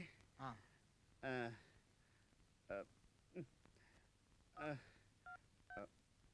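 Quiet voices speak in short bursts, followed by two brief telephone keypad beeps near the end as 108 is dialed.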